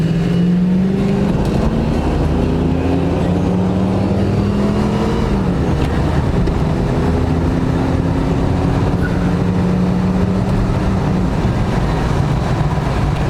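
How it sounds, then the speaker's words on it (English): A 1991 Ford Mustang cruising fast on the road at around 80 mph, its engine droning loud and steady with rising and shifting tones as it pulls through gears, all road and wind noise, no talk. "The car runs really well."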